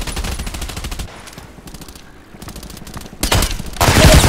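Suppressed H&K MP5SD6 submachine gun firing in the game Contract Wars, close and loud: a fast rattling burst, then sparse single shots after a short lull, and finally dense rapid volleys.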